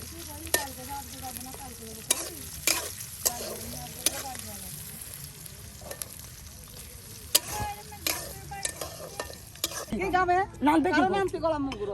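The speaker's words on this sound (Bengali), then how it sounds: "মরিচ কয়টা আর পেঁয়াজ কয়টা আর ভেজে নেওয়া হয়" Chillies and onions frying in a pan in a Bede community home in Bangladesh, a steady sizzle with clinks of stirring throughout, while a voice talks over much of it and the frying grows louder near the end.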